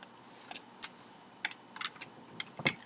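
A handful of scattered, soft key taps on a computer keyboard, a keyboard shortcut being pressed, irregular and fairly quiet over a faint room hiss, with no one speaking.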